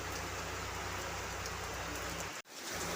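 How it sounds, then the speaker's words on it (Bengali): Heavy rain pours down outside a home doorway in windy weather, a dense continuous hiss of drops on surfaces, with one brief dip before it resumes. "দেখো কত বৃষ্টি পড়ছে"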